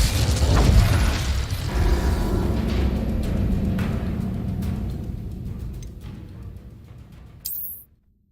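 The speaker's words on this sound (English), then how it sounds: "Incendio!" Incendio fire spell cast in Hogwarts Legacy, a loud booming burst of flame that rumbles and roars for several seconds, slowly fading before cutting off with a short bright whoosh.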